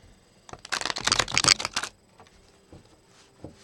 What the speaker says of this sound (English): I'm going to do a few shuffles here